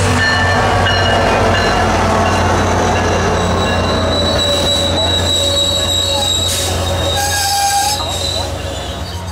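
CSX local freight train A766 waiting near a rail yard, its wheels squealing in long high-pitched tones over a steady low rumble of railcars, loud and continuous throughout.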